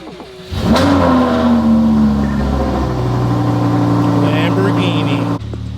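A Lamborghini supercar engine revs up loudly close by, then holds a strong, steady drone for several seconds before easing off.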